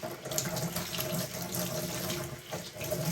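Tap water runs steadily into a basin used for rinsing a lined wool skirt by hand, a continuous close splashing rush with no voices.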